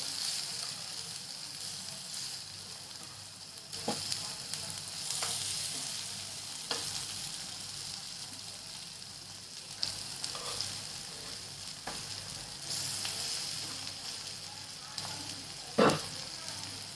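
Slices of bottle gourd frying in a pan over a gas flame, a steady soft sizzle running throughout with occasional light clicks of stirring or turning, close and moderate in level.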